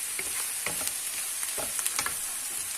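Onions frying in a pan for a vegetable moussaka, a bright, close, continuous sizzle with scattered crackles and stirring scrapes, loud and alone without talk.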